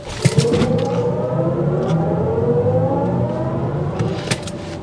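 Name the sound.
2024 BMW iX xDrive50 launch control acceleration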